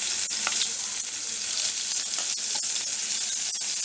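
Chopped onion sizzles in hot oil for a tempering, a bright, continuous frying hiss broken by small pops and crackles, close and fairly loud with no talk over it.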